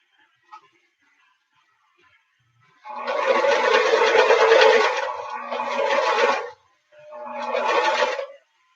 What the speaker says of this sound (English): And then periodically down this row, I will backstitch every now and then.